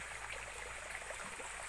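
A river in Unisan, Quezon Province flows with a faint, steady watery hiss and soft trickling, a continuous gentle rush heard alone without any voices.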